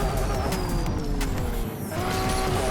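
Steady racing car engine roar in the Asphalt 8 mobile racing game, droning continuously with shifting whine tones and faint skid-like sweeps, loud and constant throughout.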